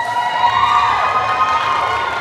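A loud crowd at a Miss/Mrs/Teen India USA pageant cheers and shouts for the contestants, a continuous roar of many voices in a large hall with rising whoops.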